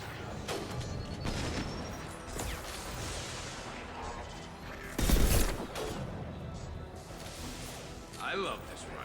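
Rifle fire in a futuristic shooter game with heavy mechs, heard as a dense spread of shots and crashing impacts under a busy battle mix, one sharp loud blast standing out midway, with voices talking over the action.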